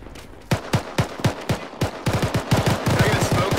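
Gunfire in a military shooter game, with sharp repeated shots that start single and spaced, then quicken into rapid bursts, close and loud with no talk.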